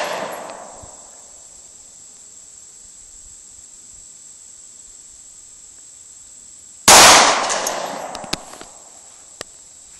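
A Taurus PT111 G2 9mm pistol fires a single sharp, loud, close shot at an outdoor range, its ringing tail fading. Fainter clicks follow, and a softer sound trails off at the very start.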